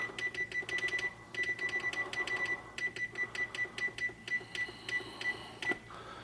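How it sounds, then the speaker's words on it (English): A kitchen timer being set for 30 minutes while baking red lentil bread gives bursts of bright, rapid electronic beeps in quick repeated clusters, close and clear over faint kitchen background. "So I'll put a timer on for 30."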